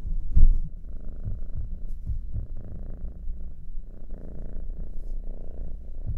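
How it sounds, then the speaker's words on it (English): A cat purrs on a person's lap, a close, continuous rhythmic rumble with soft throbbing pulses and no talk. "on my lap where he's purring up a storm"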